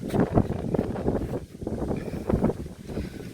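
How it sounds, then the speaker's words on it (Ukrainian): Wind buffets the microphone with a low, gusty rumble that swells and dips, loud and close, up at an attic hatch outdoors. "Ох і вітер, зараз здує."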